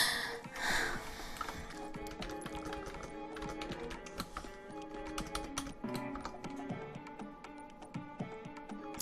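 Rapid typing on a computer keyboard, a steady stream of close, crisp key clicks with irregular rhythm, carrying on alone for the whole stretch.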